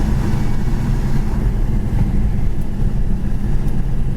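Interior of a 1969 Pontiac GTO cruising down the road, a steady low engine drone mixed with road and wind rumble, constant and fairly loud throughout with no talking.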